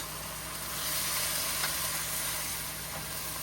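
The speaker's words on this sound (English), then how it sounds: "You gotta get that wok nice and hot." Vegetables stir-frying in a hot wok give a steady, even sizzle with a constant hiss, plus a couple of faint utensil scrapes against the pan.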